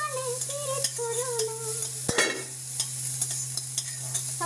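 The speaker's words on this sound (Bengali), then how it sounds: "চিংড়ি মাছগুলো ভাজা হচ্ছে" Prawns fry in a pan with a steady close sizzle under a constant low hum, with light stirring clinks and a sharp knock midway.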